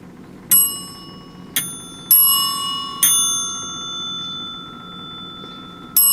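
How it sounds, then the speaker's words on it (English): An old mechanical telephone bell, its gong worked by hand through a pair of spring contacts, gives four sharp separate strikes, each ringing on, then a fifth strike at the very end, loud and close with no talk. "Well made bell."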